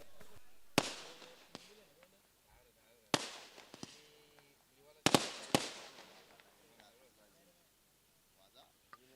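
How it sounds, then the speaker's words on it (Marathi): Firecrackers and fireworks set off to welcome guests at a village cricket tournament, sharp loud bangs in three clusters with crackling tails, under faint background talk and ambient noise. "ही फटाक्यांची आतिषबाजी तुम्हाला पाहायला मिळते"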